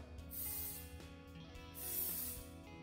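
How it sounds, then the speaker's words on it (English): A short, soft spray of garage door lubricant hisses twice in quick bursts, close by, with faint rubbing and background hum between them. "so if you'll get a garage door lubricant specifically, just go in, spray everything down."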